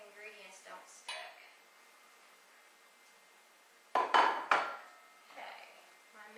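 Olive oil is swirled in a saucepan in a home kitchen, with a soft metallic scrape early on and then a brief cluster of loud pan and utensil clanks near the middle, ringing out before quieter handling.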